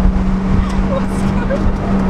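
A Peugeot 207 CC pulls hard at full throttle in third gear near 5,000 RPM, a loud sustained engine drone with a strong steady hum and road noise underneath.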